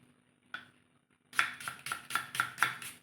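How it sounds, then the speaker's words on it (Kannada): A knife chops onion on a cutting board in a home kitchen: one lone tap, a pause, then six quick, evenly spaced close-up chops. "ಈರುಳ್ಳಿಯನ್ನು ಹೆಚ್ಕೊಳ್ತಾ ಇದ್ದೀನಿ"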